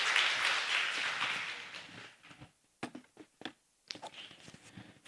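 A church congregation claps during a Sunday service, a burst of dense applause that thins into scattered, uneven claps and taps at moderate volume.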